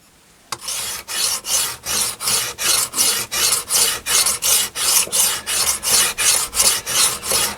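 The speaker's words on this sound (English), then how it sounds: "I can get a nice flat bevel on the axe. I'm using the 400 grit" An axe bevel is honed on a 400 grit diamond sharpener, a steady series of about fifteen rhythmic rasping strokes, close and loud, each scrape rising and falling in even succession with no talk.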